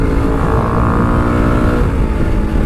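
A Suzuki DRZ motorcycle cruises along a highway at about 100 km/h, giving a steady, loud engine drone mixed with wind and road roar that holds unchanged from start to finish.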